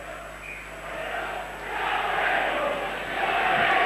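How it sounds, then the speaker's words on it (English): Featherstone Rovers fans sing in the stadium crowd at a 1998 rugby league championship semi-final, a distant, washy roar of massed voices that swells steadily louder across the stretch. "Featherstone Rovers fans singing going up well."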